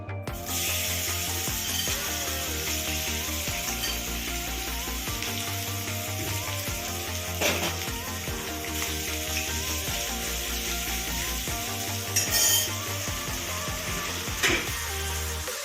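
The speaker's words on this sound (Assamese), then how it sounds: "মাছখিনি ভাজিম" Continuous crackling sizzle of small pieces of fish frying in hot oil in a wok, steady and close, with occasional louder pops and a faint mechanical hum underneath.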